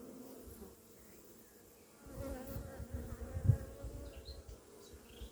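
Honey bees at an apiary, a soft continuous buzzing that grows slightly louder and busier partway through, with no voices.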